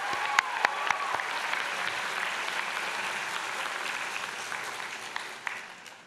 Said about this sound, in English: so loud round of applause for that.